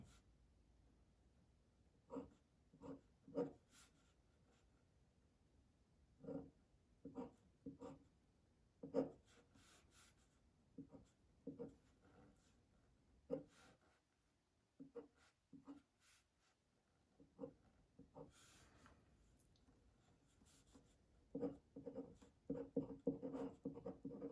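A pen scratches out a pyrene chemical structure on paper, short irregular strokes and taps in quick bursts with pauses between, close and quiet, with no talking.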